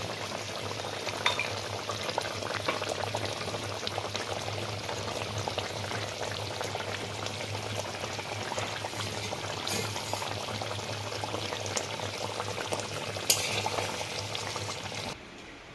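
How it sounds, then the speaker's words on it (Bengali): Shorshe ilish, hilsa in mustard paste, simmers in the pot with a constant bubbling hiss as raw mustard oil is poured over, steady and close throughout. "ঢাকাটা খুলছি তরকারিটা আমার হয়ে এসছে একটু কাঁচা সর্ষের তেল দিয়ে ছড়িয়ে দেবো"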